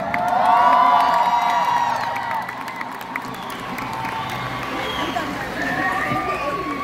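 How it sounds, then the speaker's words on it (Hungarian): Crowd at a Budapest Park concert cheering and applauding, loud and dense at first, then easing into a steady roar of voices and whoops. "Szeretnék kérni hatalmas nagy tapsot"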